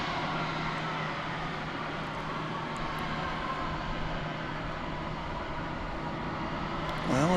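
MD-11 airliner at DFW Airport gives off a steady, broad engine roar from a distance, unbroken for several seconds, rising slightly at the very end.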